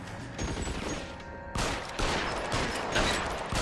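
Gunfire in the L.A. Noire video game: repeated pistol and rifle shots crack over a noisy firefight, a quieter stretch followed by louder, denser shots in the second half.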